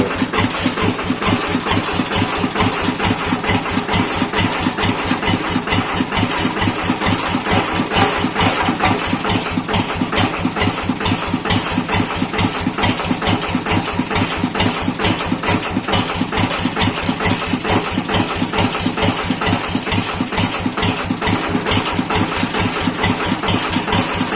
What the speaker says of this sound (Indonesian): Mesinnya masih jenting-jenting ini suaranya